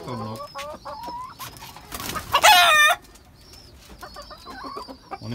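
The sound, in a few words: rooster clucking and crowing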